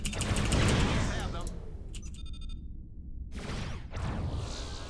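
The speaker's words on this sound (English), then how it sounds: "Photon torpedoes." Photon torpedoes fire in Starfleet Command: The Next Generation mod, loud roaring bursts separated by a brief near-silence with a pulsing electronic beep, then another sustained blast.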